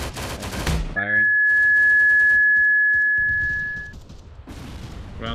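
Gunfire in the military shooter game Arma 3: bursts of rapid automatic shots, then a long ringing tone with scattered further shots and players talking over the radio.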